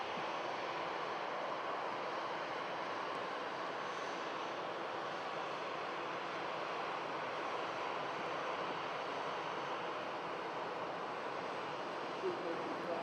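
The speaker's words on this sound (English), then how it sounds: "TAP Air Portugal heading back to Lisbon on the Airbus A320" TAP Air Portugal Airbus A320 taxiing at Manchester Airport, a steady distant jet engine whine and rumble holding constant throughout.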